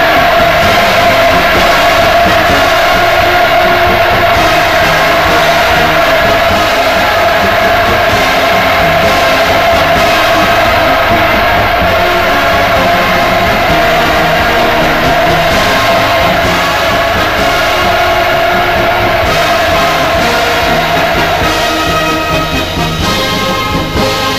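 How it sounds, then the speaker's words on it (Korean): A huge crowd roars and cheers loudly and without pause, a dense, sustained wall of voices welcoming Putin on his visit to North Korea in 2000. "위대한 장군님을 우러러 폭풍 같은 환호를 돋쳤습니다"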